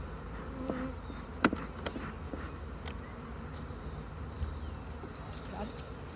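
Honey bees buzz steadily around a hive, a soft continuous drone close by, with scattered clicks and faint voices in the background.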